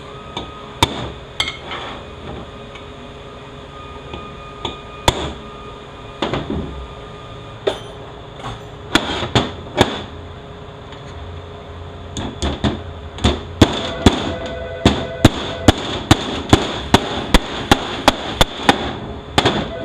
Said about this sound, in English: Stake our bushing in place.